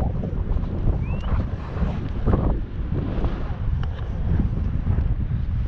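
Strong wind buffets the microphone at a coastal state park in November, a constant roaring rumble with gusty surges and what may be surf beneath it, loud and continuous throughout.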